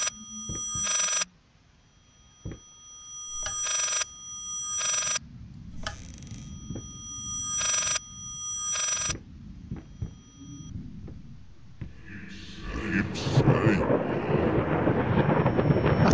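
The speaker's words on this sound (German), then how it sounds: "Da ist das Telefon." A telephone rings repeatedly inside the horror video game Layers of Fear, about six loud, evenly spaced bursts, then it stops and a dense rumbling, rustling game ambience swells near the end.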